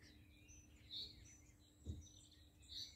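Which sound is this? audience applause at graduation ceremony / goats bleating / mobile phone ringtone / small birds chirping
small birds chirping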